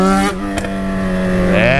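Yamaha XJ6 motorcycle engine revving hard during a wheelie attempt, a strong harmonic engine note that holds steady and then climbs again near the end, loud and close.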